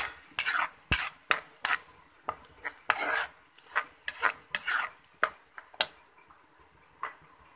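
A spoon stirs and scrapes masala with yogurt as it fries in a pot, making quick, uneven clinks and scrapes over a light sizzle, with short pauses between the bursts.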